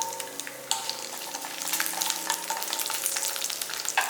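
Cumin, asafoetida and garlic sizzle steadily in hot oil, a dense crackling fry with a few sharper pops and spoon stirs, close and fairly loud throughout.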